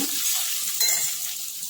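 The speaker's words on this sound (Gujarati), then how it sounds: "હવે લીલા મરચાં આખા લીલા મરચાં એડ કરીશું અને ડુંગળી એડ કરીશું થોડી શેકા દઈશું આપણે" Whole green chillies and onion frying in a pan for vegetable pulao, a loud, steady oil sizzle with a faint stir midway, with no talking.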